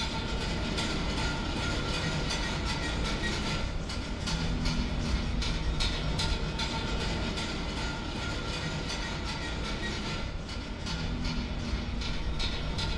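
A train in the Trainz simulator game rolls along with a steady, loud rumble and faint repeating clicks from the rails, continuing without a break for the whole stretch and with no voices.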